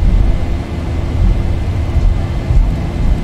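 Dash 8 turboprop engines in X-Plane 11 spooling up to full takeoff power, a loud, steady low roar that holds without a break throughout.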